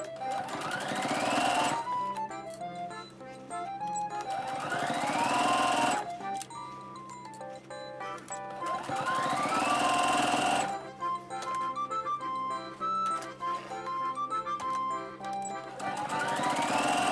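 A sewing machine stitches a zipper onto the right side of a Liberty canvas pouch, 5 mm from the edge. It runs close and loud in four long, steady rattling runs with brief pauses between them.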